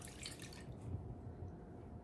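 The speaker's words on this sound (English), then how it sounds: "now we're just gonna put in the water" Water splashes and trickles briefly into a bowl, a short soft pour close by that fades quickly.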